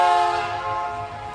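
A train whistle sounds as the train departs, a brief, loud, sustained tone with rich harmonics that carries on alone.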